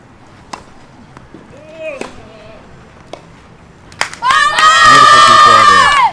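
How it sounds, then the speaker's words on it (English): At a tennis match at the Coral Oaks Invitational, a crowd and family burst into loud cheering and shouting after a few sparse ball hits and a voice, the roar holding strong to the end. "And Yankuil's crowd and family erupts"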